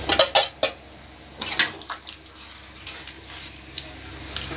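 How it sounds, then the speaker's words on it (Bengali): Metal utensil scraping and knocking against a pot as fried spice mix is stirred into chicken curry, several sharp clanks in quick succession early on, then softer scattered taps with a faint watery background. "দিয়ে ভালোভাবে নেড়ে নেব।"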